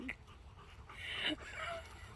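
A dog pants in quick breathy bursts with a brief high whimper partway through, close by and moderately loud, with faint background noise throughout.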